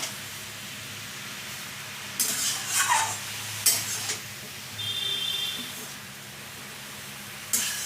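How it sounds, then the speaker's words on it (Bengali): Vegetables, bottle gourd leaves cooked with poppy seed, are stirred in a frying pan, giving intermittent scraping bursts and clinks of a utensil against the pan over a low background hum. "এবার ভালো করে সবজির সাথে মিশিয়ে নিচ্ছি।"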